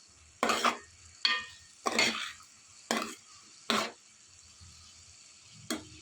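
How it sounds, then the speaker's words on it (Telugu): Cucumber pieces and onions frying in oil in a pan, stirred in about six sharp, separate scraping strokes at uneven intervals, with a soft sizzle underneath between them. "మూత పెట్టుకుని దోసకాయ ముక్కలన్నీ కూడా మెత్తగా ఉడికేంత వరకు కూడా ఫ్రై చేసుకోవాలి ఆనియన్స్తో పాటు కలిపి"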